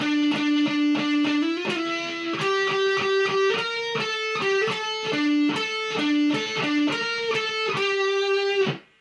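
Distorted electric guitar shred solo over a verse riff, fast picked notes and a steady driving rhythm, loud and close, playing alone without any voices.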